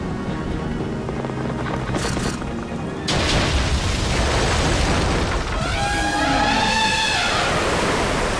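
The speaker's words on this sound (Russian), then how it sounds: "Отсюда точно никто не услышит взрыв." A loud explosion in an animated series, a dam being blown up: a sustained roaring blast with broad rumbling noise that swells partway through and keeps going without pause, with no talking.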